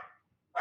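Dog barking indoors, two short sharp barks separated by a brief silence, fairly close and alone without talk.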